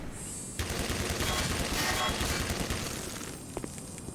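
A grenade going off in the video game Black Mesa: a loud, sustained blast with a rumbling, crackling tail lasting a few seconds, followed by some sharper clicks.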